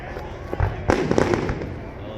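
Canada Day fireworks exploding outdoors, with a few sharp pops and a crackling cluster of bursts at moderate distance, mixed with crowd noise in the background.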